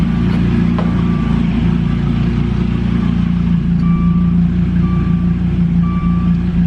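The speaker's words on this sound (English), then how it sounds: "the car yelling at me because I don't have the key in" A Gen 5 Dodge Viper sounds its key-not-in-ignition warning chime, a few soft repeating beeps over the loud, steady low rumble of the V10 engine idling nearby.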